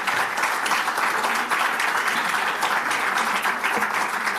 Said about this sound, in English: Can we get a huge applause for them?